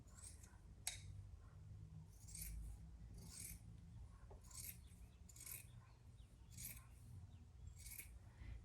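Scissors snip through fabric being cut for sewing winter pajamas, a series of quiet, crisp close-up cuts in an irregular rhythm against a soft room background.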